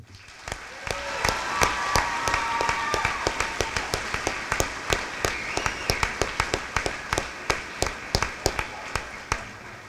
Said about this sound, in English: could we just have a round of applause for the class of 2022?